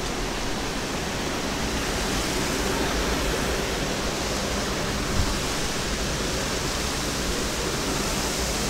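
Water rushes in a brown stream at a camp in Real, Quezon, a steady, broad, loud hiss of flowing water that stays even throughout.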